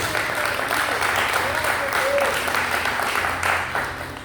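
A church congregation applauds during a sermon, steady crowded clapping that holds at an even level throughout, with some murmuring voices underneath.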